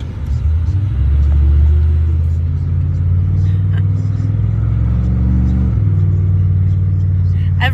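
A truck engine rumbles loudly nearby, rising and falling in pitch as it revs, with a deep throaty exhaust drone throughout.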